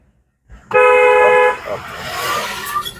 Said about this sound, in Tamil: ஹார்ன் அடிங்க